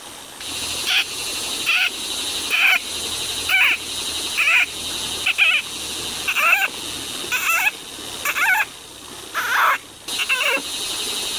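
A person imitates a field frog call, giving about a dozen short croaking bursts at a steady rhythm, each separated by a brief pause, close and moderately loud.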